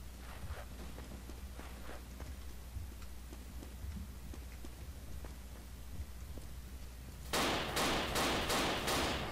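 Faint, sparse shots and clacks in the dinosaur shooter game Dino D-Day give way near the end to a loud, rapid burst of four or five close gunshots, with no talking.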